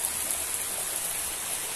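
Steady, soft rush of water flowing around farmland, an even, continuous stream-like hiss with no talking, heard close and unbroken for the short stretch.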